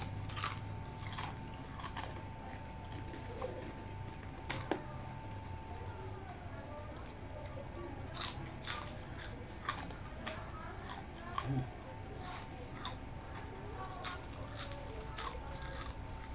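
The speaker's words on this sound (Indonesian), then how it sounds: "Keripik pisangnya renyah." Crunchy banana chips are eaten, giving repeated sharp crisp bites and crunches in an irregular rhythm against quiet background noise. A voice talks faintly at times.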